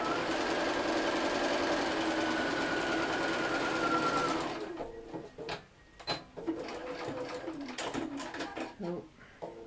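A sewing machine stitching fabric pairs together for a cushion, a steady close whirring run for about four seconds that stops, followed by quieter clicks, handling noise and a voice speaking.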